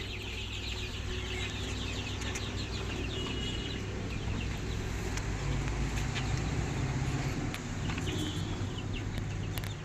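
Desi gavran chickens cluck steadily on a poultry farm, a dense, continuous chorus of hens and chicks at close range with no talk over it.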